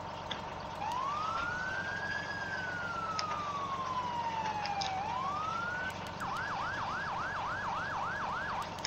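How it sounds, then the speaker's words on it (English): A Federal Signal PA-300 fire truck siren in Farming Simulator 17 plays a slow rising and falling wail, then switches to a fast, repeated yelp, clear and steady with no talk over it. "And this has a Federal Signal PA-300 siren."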